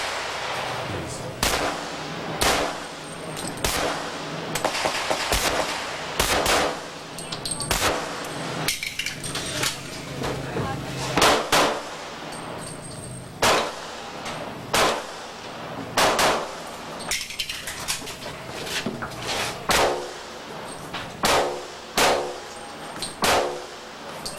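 Handgun shots crack out in rapid strings from a competitor shooting a USPSA stage at the 1990 National Championships, loud and close, with metallic clangs and brief gaps between bursts.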